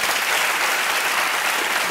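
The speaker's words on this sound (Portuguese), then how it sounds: "Posso pedir um aplauso para ele?" A studio audience applauds during a Brazilian talk-show interview, a dense, steady burst of clapping filling the room without pause, loud and close.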